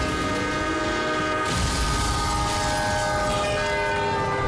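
A train smashes into a car parked on the tracks at a level crossing: a loud horn blares over a heavy rolling rumble, with a sudden broadband burst partway through before the horn continues.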